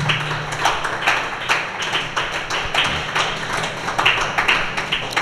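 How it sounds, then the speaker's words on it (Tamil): A church congregation claps in a steady repeated rhythm, many hands beating together in a loud, even pulse that fills the room, with no voices standing out. "கையை தட்டுங்கள்."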